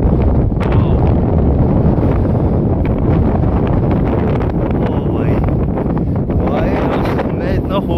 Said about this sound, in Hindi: ये देखो इतनी तेज़ हवा आ रही है ना